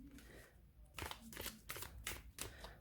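A Linestrider Tarot deck shuffled by hand, close up, with a series of quick papery riffling bursts after a brief quiet start.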